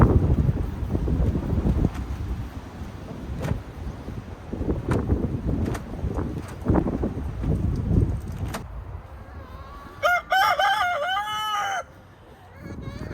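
A Golden Laced Wyandotte rooster crows at close range near the end, its call rising and falling, after a stretch of windy rustling and scattered thumps.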